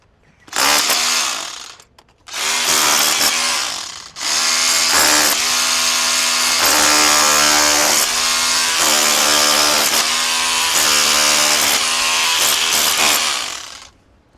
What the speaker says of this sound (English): when using the chisel here, we've switched into just the hammer mode.